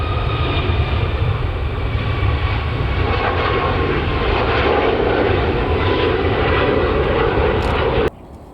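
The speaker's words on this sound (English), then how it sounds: "taking off now is a TUI 737 MAX 8 going to Sharm el Sheikh" A TUI Boeing 737 MAX 8 takes off from Manchester with a loud, sustained jet engine roar and a rumbling low end. It holds strong until it cuts away sharply near the end.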